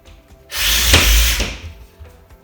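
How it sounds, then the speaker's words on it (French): A power screwdriver drives a screw through a plasterboard panel into metal studs during bedroom renovation, one loud sustained whirring burst of about a second with a brief sharp spike as the screw seats. "la plaque est déjà maintenue sur le bas et donc il n'y a plus qu'à visser"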